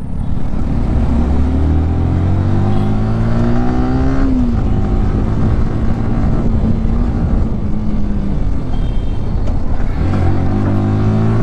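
A 2024 Yamaha R15 V4 sport motorcycle engine is loud and continuous while riding, its pitch climbing and dropping through gear changes with a brief dip midway, under heavy wind rush.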